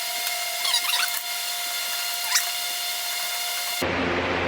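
A power driver whines steadily as it backs screws out of the grille insert on a Toyota Tacoma. Close tool noise holds for nearly four seconds, then cuts to a lower, rougher mechanical rumble.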